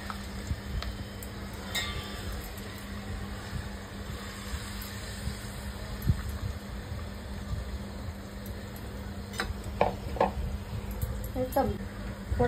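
Raw chicken fries in plenty of oil over a raised gas flame while being stirred, giving a steady, coarse sizzle with occasional scraping clinks, up close, as someone talks over it.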